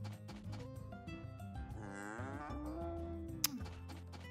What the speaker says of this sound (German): So eine Kuh.